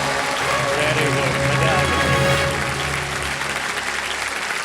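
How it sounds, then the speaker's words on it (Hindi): A studio audience on a televised quiz show applauds loudly and continuously, the clapping swelling and then easing slightly while someone speaks briefly over it. "मैडम पहले से ताली बजा रहे हैं"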